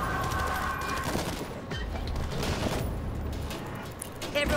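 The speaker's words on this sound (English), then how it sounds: "I just like shooting random things" Rapid bursts of gunfire crackle and rattle in the World War Z video game, dense overlapping shots with a few louder booms, fairly close, with a voice talking over parts of it.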